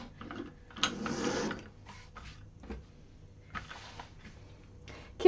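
A home sewing machine runs in short bursts during a Wayfarer sling sewing class, its bobbin mechanism whirring and ticking, with brief stops between stitching runs and no talk.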